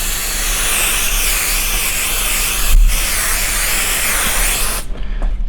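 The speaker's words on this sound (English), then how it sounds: "You're gonna put a healthy amount of spray down." A loud, steady aerosol spray of temporary fabric adhesive hisses continuously for several seconds onto a quilting design board, pausing briefly once before resuming and then cutting off near the end.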